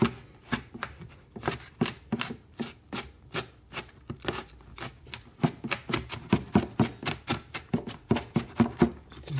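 A knife chopping finely on a cutting board while preparing coq au vin blanc; rapid rhythmic taps, sparse at first then quickening into a fast, even series of sharp close knocks, with no talking.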